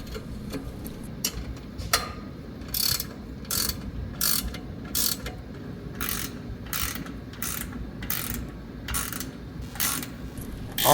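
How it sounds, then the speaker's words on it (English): A ratchet wrench cranks down muffler and exhaust bolts during an exhaust leak repair, rhythmic clicking strokes repeating in short bursts over a low background hum, close and moderately loud. "And then wrench it all down."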